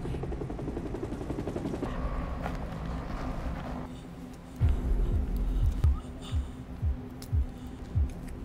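A helicopter from the film The River Wild gives a steady rotor drone, joined by a string of sharp, rhythmic thuds partway through.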